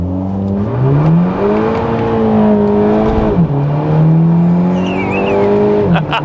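A VW Golf GTI MK5 launching on a wet road with wheel spin: a loud, continuous engine drone rising and dipping in pitch through quick gear changes, with a faint squeal.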